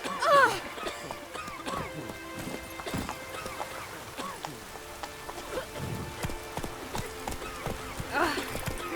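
A horse's hooves clop along in the Witcher 3 video game over a rain-like patter. The rhythmic steps are fairly close, with a brief whinny and a voice near the start.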